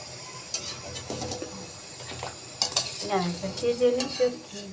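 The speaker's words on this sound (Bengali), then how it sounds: "আমি অলরেডি সবগুলি পিঠা ভাবে লাল লাল করে ভেজে নিচ্ছি" Pakon pitha, a Bengali lentil-based sweet cake, fries in oil with a soft sizzle while a utensil clinks and scrapes against the pan, with several sharper metallic taps in the second half.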